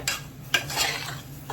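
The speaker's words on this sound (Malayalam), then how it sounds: "നന്നായിട്ട് ഇളക്കി കൊടുക്കും." A spoon stirs camel meat mixed with masala and coconut oil in a pan for a camel roast, giving a few close scraping strokes over a light sizzle.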